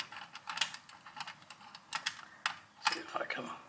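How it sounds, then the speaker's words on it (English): Screws being removed from the original tube socket of a 300B single-ended triode tube amplifier under repair: a string of small, sharp metallic clicks and scrapes at close range, irregular and fairly quiet. "take the screws out of the original tube socket"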